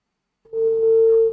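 After a caller on a live phone-in line is cut off, a single steady telephone tone sounds clearly and alone for about a second.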